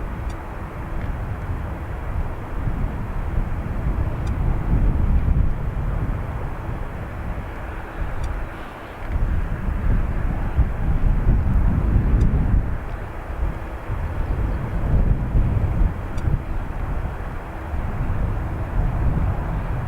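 Jet airliners, including a KLM plane, taxi at Dublin Airport with a steady, rumbling engine drone that swells and dips as they move, heard from a moderate distance.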